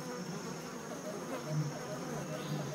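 Flies in flight give a steady, close insect buzz with a faint high whine, continuous and fairly soft for a few seconds.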